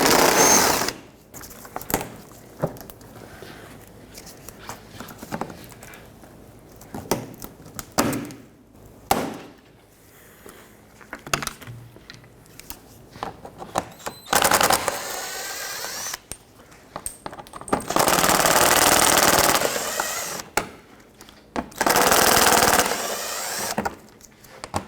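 Hand removal of 7mm screws and push clips from underneath the front bumper of a 2005-2010 Pontiac G6, with intermittent whirring bursts of a powered driver, several long runs and shorter spins, close up with scrapes and clunks between them.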